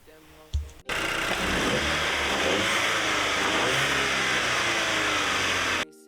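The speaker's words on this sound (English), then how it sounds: "I'm gonna show you the before and the afters of the engine sound" An Audi TT 2.0 TFSI engine revs hard and holds at high pitch for about five seconds, loud and close, then cuts off abruptly.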